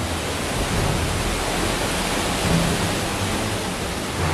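Deep underground river in Son Doong cave rushing steadily, a loud, dense and unbroken roar of water with no voices.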